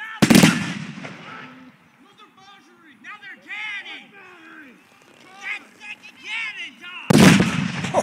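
Two heavy booming historical cannon blasts at Fort Whoop-Up, one at the start and one near the end, with talking voices in between.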